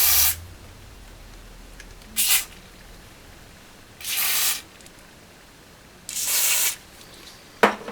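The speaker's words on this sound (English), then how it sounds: "I just want to make absolutely sure that the cleaner goes in." Contact cleaner sprayed into the pots of a Fender Twin Reverb Reissue amplifier: four or five short, sharp aerosol hisses in separate bursts, close and loud, with quiet pauses between.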